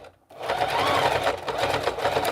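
Sewing machine stitching through fabric, a rapid steady mechanical whir that starts after a short silence and runs close and loud to the end.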